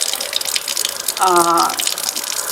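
A kitchen tap dispensing sparkling water in a Dubai home gives a brief, strong gushing rush lasting about half a second, set against a busy background of hiss and room noise.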